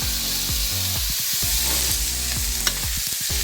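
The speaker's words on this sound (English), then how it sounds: "So from the sound of the sizzle, you can see that the onions are browning." Onions browning in coconut oil in a pan, a loud continuous sizzle with rhythmic scraping strokes of stirring, close and steady, with no speech.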